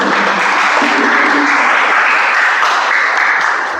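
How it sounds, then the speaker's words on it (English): Audience at a Toastmasters club meeting applauding Toastmaster Vamshi, a loud, dense, continuous burst of clapping from a roomful of people that holds steady and fades slightly at the end. "Round of applause for Vamshi"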